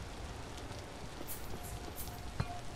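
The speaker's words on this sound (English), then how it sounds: "Raining like crazy." Rain falls in the survival video game Vintage Story as a steady, soft hiss of drops on surfaces, faint and continuous, with a single brief tap near the end.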